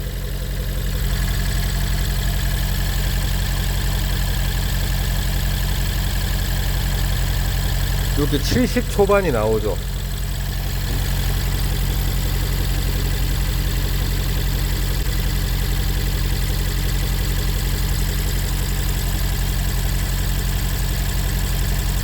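A used imported car idles steadily at about 1000 RPM, a low, constant engine hum that runs the whole time, with a brief burst of nearby talk partway through.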